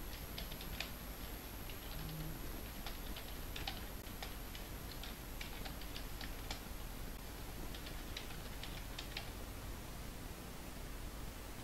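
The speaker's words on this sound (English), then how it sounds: "open command prompt, and type this code" Quiet, scattered clicks of a computer keyboard as a command is typed, a faint run of light keystrokes over a soft hiss of background noise.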